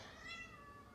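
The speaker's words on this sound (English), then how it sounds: "Oh, cat woke up." A cat wakes and gives one short, soft meow, faint and on its own against a quiet background, lasting under a second.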